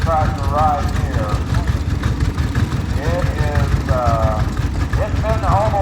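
A 1928 family tractor engine runs at a steady idle during a tractor parade, a loud, close, continuous low chugging while someone talks over it.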